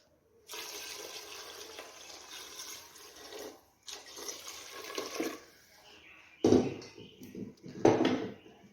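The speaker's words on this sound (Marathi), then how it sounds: "पाणी टाकून घेऊया गरम यामध्ये" Hot water splashes and pours steadily into a pot of cooking mutton in a few bursts, with pauses between them and a couple of louder splashes toward the end.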